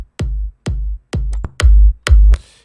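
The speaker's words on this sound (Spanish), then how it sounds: "el bombo normal es este" Five unprocessed kick drum hits sound alone in a dry, close take, each a deep low thump with a short decay, evenly spaced at first, then two slightly louder, fuller hits at the end.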